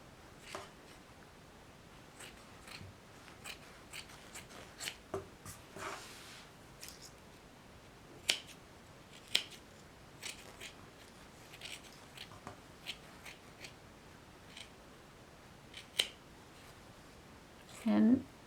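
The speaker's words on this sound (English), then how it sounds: "I'm just taking a large pair of scissors and cutting around the piece" Large scissors cut through minky fabric and batting while trimming a plush seam, giving sparse, quiet snips spread irregularly over a soft background hiss, with a louder rustle near the end.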